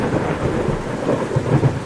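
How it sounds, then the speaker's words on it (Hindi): Sudden heavy rain with rolling thunder in a Hindi children's cartoon, a steady dense downpour with low rumbling bursts throughout, loud and close with no voices. "अरे ये अचानक इतनी तेज बारिश कहाँ से आई?"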